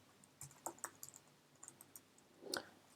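Someone types a file name on a computer keyboard into a text editor, a quick irregular run of light plastic key clicks at close range, ending in a louder cluster of keystrokes, with no talking.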